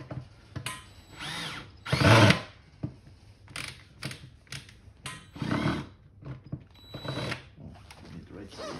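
A power drill driving fasteners on a Berg steel pedal trailer XL in several short bursts, one longer and louder whir near the middle, with pauses between and clicks of handling, heard up close.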